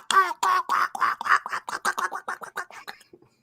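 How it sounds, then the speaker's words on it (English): A duck quacks in a rapid, steady series of about a dozen nasal calls lasting a few seconds, loud and close, trailing off at the end with no talking over it. "That's called a duck, Jared."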